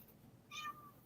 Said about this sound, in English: My cat's coming in here meowing.